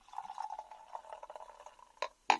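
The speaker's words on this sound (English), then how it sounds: "Let's pour it out." Tremlett's Bitter cider from Ross-on-Wye pours into a clean glass, a soft continuous liquid trickle with faint glassy clinks, ending in two brief sharp splashes or taps near the close.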